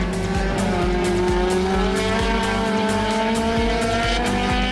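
T2000 and S2000 class race cars roar along a track at a 2018 qualifying session, several loud engines blending into a continuous high-revving drone with rhythmic gear pulses, no voices.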